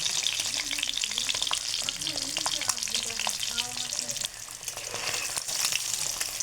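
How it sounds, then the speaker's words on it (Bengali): Boiled egg, cut into six pieces, frying in hot oil for an egg curry, a continuous close crackling sizzle with occasional stirring clicks and pops. "এই যে আমার ভাজা হচ্ছে"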